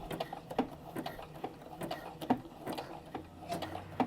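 A sewing machine stitches down a simple skirt made from fat quarters, its needle clattering in a fast, even mechanical rhythm with ticking beats, close up and fairly quiet.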